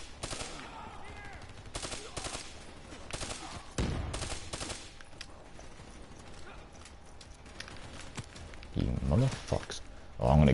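Gunfire from the video game Call of Duty Black Ops 3, with repeated shots and bursts crackling over in-game noise and mechanical clatter while someone talks throughout.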